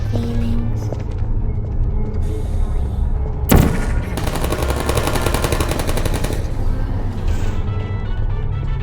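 Turret gunfire in the video game Portal, a loud sustained rattle of rapid automatic shots over a steady mechanical hum, with a sharp burst partway through.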